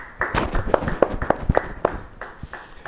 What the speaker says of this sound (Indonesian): Yang mau beri tepuk tangan buat Tuhan